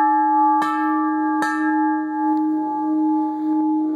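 A ringing bell sounds with a long, sustained tone, struck twice in close succession, its steady pitched ring lingering and slowly fading across the whole span, close and clear with no talk.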